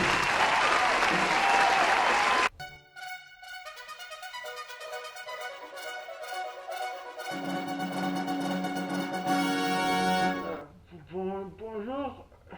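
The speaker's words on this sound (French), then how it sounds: "Oui, oui, applaudissons-le." A crowd applauds loudly for about two seconds, then the clapping stops abruptly and music takes over with sustained tones.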